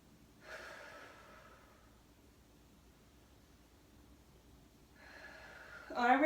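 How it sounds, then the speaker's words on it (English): Deep breaths drawn during a yoga session, two soft airy exhalation bursts about four seconds apart, close and quiet, the second ending in a louder sharper breath. "just breathe 5 deep breaths"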